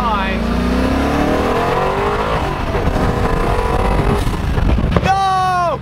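A McLaren Senna's engine revs hard on an early-morning street, with a Pagani Huayra nearby. Rising engine notes climb at the start and again in a sharp burst near the end, and people talk over the steady drone between.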